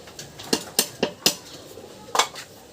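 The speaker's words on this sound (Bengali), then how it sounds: "এবার আমি ভাতটা নামিয়ে ঠান্ডা করতে দিচ্ছি" Metal pot of boiled rice being lifted off a stove: several sharp clanks and knocks of pot against metal, spaced irregularly, close and fairly loud with no voices.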